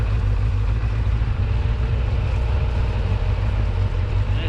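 A motorcycle engine runs steadily on a slippery, narrow road after overheating to 107 °C, a continuous close, loud low rumble with no clear revving.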